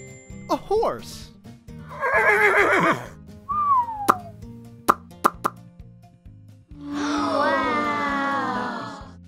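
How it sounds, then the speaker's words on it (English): A cartoon horse whinnies near the end, loud and drawn out, after a series of short cartoonish plops, squeaks and pops with a steady beat underneath, in a children's animal-sounds song. "A horse."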